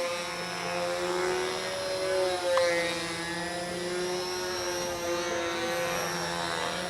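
A small radio-controlled model helicopter flying at a model aircraft meet, giving a steady whining rotor and motor drone with sustained tones that waver slightly as it moves, fairly close and with no talk.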